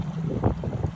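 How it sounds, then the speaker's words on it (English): Wind gusting over Cowan Lake in Saskatchewan while fishing from a boat in rough water, a low rumbling buffet of wind across the microphone with a brief stronger gust, no voices. "a little windy."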